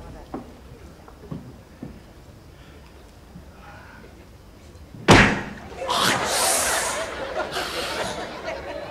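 A car door is opened and slammed shut during a stage comedy show at a theatre, with soft footsteps and thumps, then one loud slam followed by audience laughter and chatter.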